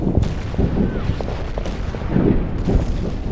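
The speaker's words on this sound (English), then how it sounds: "Artillery bursting." Artillery shells burst in the Winter War battle game Order of Battle, a dense rumble of low booms and scattered blasts that rolls on continuously at moderate loudness.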